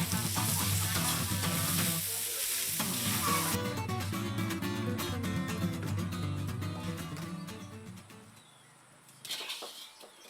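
Ash gourd filling for bamboo-shoot lumpia cooks with spices in a pan, a steady loud sizzle and frying hiss with stirring clatter running most of the time, then dropping away near the end before a brief final burst.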